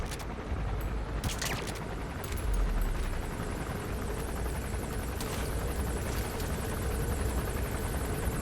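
A steady helicopter rotor drone fills the whole stretch, close and continuous, with a few sharp bursts like gunfire breaking through, in Metal Gear Solid V: The Phantom Pain.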